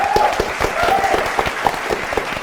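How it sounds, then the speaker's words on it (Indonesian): Quiz show studio audience claps on cue, a lively burst of applause with sharp individual claps standing out over a dense patter, a faint voice briefly audible beneath. "Ya, tepuk tangan dulu"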